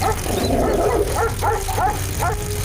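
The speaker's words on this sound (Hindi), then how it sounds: "कुछ कुत्ते राजेश की साइकिल को देखकर भौंकने लगते हैं।" Several village dogs bark at a bicycle in a series of short, sharp yips and barks over a steady low hum, moderately close.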